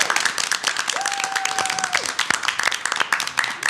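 Applause at an award ceremony honoring a nurse, a dense burst of clapping from a crowd lasting a few seconds, moderately near, with a brief voice rising over it.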